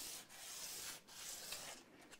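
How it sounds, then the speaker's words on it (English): Faint, steady scratching of sandpaper rubbed back and forth over the front edge of a wooden Hamer double-cut guitar body, in long strokes with brief breaks between them. "I'm just sanding down the flush face, or the front edge I should say."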